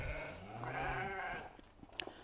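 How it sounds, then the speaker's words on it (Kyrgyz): Lambs born in summer bleat in a wavering cry that lasts over a second, followed by faint rustling and a couple of small knocks close by. "Жайда туулган козулар."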